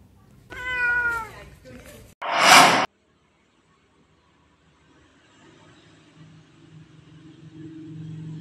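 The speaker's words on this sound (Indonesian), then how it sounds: "adanya seekor kucing yang terjebak di lantai 3 gedung dan tidak bisa turun." A cat trapped on the third floor of a building meows a few times in close, loud calls, followed by quiet background rumble.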